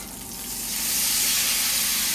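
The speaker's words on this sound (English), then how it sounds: "Look at that sizzle." Steady close sizzling and crackling of chicken frying in a hot pan, rising slightly louder, with no talking.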